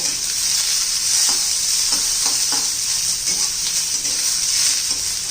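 Onions sautéing in a pan until reddish for a village-style sandgya curry, a loud constant close-up sizzle with faint spatula scrapes throughout.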